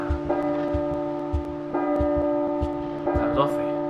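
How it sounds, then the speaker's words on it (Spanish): A church bell in the horror video game P.T. tolls three slow, resonant strikes about a second and a half apart, each ringing out over a low ambient drone. "otra vez la campana."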